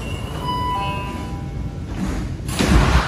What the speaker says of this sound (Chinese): 关门了